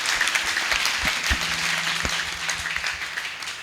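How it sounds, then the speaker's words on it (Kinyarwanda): A church congregation applauding, a dense wash of many hands clapping together, fairly loud and steady before slowly tapering off. "tuyikomera amashyi menshi cyane."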